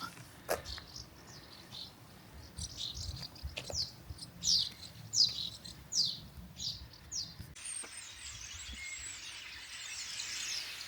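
Birds chirp near swallow nests in a village, a run of short high tweets repeating in quick bursts at moderate distance over a soft, rustling outdoor background.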